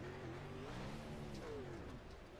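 Onboard 410 sprint car engine at Knoxville throttling back up, a loud close roar with pitch climbing and wavering over about two seconds.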